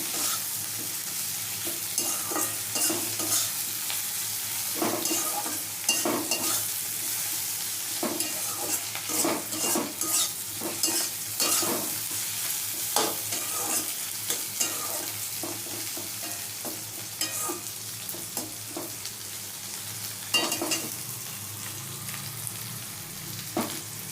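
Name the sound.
stirring and frying okra with spices in a pan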